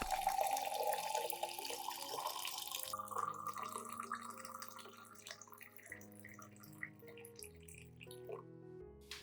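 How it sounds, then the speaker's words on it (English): Hot water, 500 milliliters, pours into a clean glass cup with a bright splashing stream, then trickles and drips as the cup fills and the flow stops. "Pour 500 milliliters of hot water into the cup."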